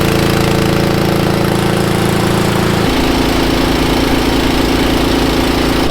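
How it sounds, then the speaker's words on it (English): A John Deere sprayer side-dressing corn with 32% nitrogen in a field runs with a loud, steady engine drone and a rhythmic mechanical knock that shifts pitch partway through. "We're using our John Deere sprayer to applicate that every 60 inches."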